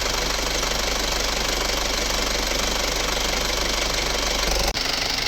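A 2008 Isuzu Rodeo 4WD turbo engine idling, a steady, even mechanical drone with constant vibration that holds unchanged, briefly cut by a dropout near the end.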